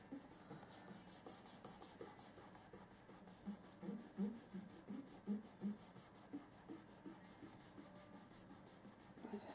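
Soft, steady rubbing as a cake edge is smoothed by hand, a quiet close-up rasping with a slight rhythmic pulse and no talk.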